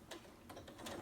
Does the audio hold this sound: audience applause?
no